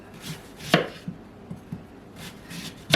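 A knife cuts peeled sweet potatoes into thick fries on a board, a few distinct sharp chops with softer knocks in between, close and clear, no talking.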